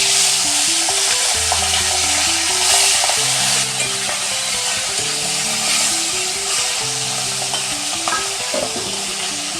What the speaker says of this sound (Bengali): এই 3টে মাথাও আমি ভেজে নিচ্ছি।